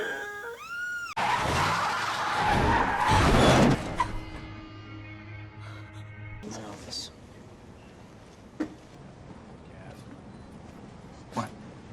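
A van skids across pavement in a movie scene, a loud broadband tire screech and slide that then cuts to quieter ambience with a couple of brief knocks.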